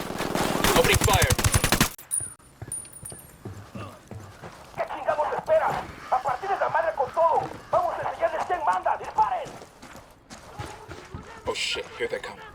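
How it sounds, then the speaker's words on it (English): Gunfire from the video game Ghost Recon Wildlands: a fast, loud burst of automatic fire up front, then scattered shots and commotion under excited talking. "Opening fire."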